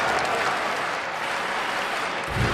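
A baseball crowd at a Colorado Rockies home game against the Braves keeps up a loud, continuous roar of applause and cheering, with the rhythmic chant for Tulo blended into a wide wash of sound.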